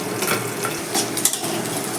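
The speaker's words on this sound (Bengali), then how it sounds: "মাছগুলো ভাজা হয়ে গেছে এবার সব নামিয়ে নিলাম" Tangra fish fry in hot oil, a loud, dense, steady sizzle with occasional clinks of utensils against the pan. No one speaks.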